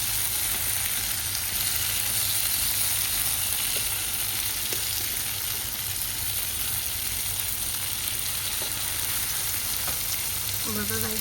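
Food frying in a pan gives a loud, continuous close sizzle with a few faint clicks as pieces are turned over, no talking.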